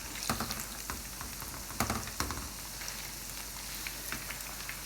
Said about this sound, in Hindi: पहले हमने एक साइड पर इनको फ्राई होने देना है